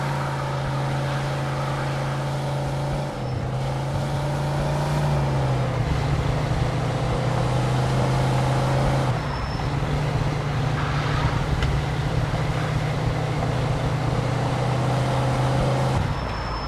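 A car races through a police chase in the video game Mafia 2, its engine holding a steady, loud drone with brief shifts in pitch and constant road rumble for the whole stretch, with no voices.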